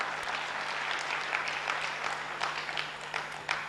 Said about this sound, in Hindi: भाई तालियां तो बजाइए